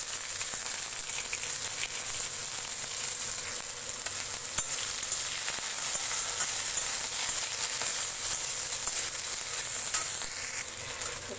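Onion and crab frying in oil with whole spices, a loud, dense and unbroken hiss of sizzling that holds steady for several seconds, close by and with no talk.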